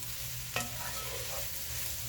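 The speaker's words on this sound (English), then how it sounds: "now we are going to continue frying this down." Scarlet gourd (tindora) with turmeric sizzles steadily in a hot pan while a spoon stirs it, with one brief scrape of metal early on.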